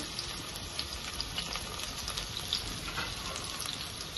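Mutton fries in a pan with curry leaves and green chillies, giving a faint, even crackling sizzle with small pops scattered steadily throughout.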